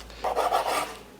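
A knife rasping through freshly baked cheese breadsticks, a short run of three or four quick scraping strokes, close and fairly loud, no voices.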